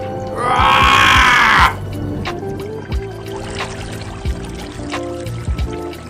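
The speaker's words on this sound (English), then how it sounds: "Toba, who was working in the fields, was shocked to see the flood coming towards him" Flood water rushing as a sound effect: a loud, short surge of gushing water bursts in near the start, lasts just over a second, then cuts away to a quiet background with scattered soft knocks.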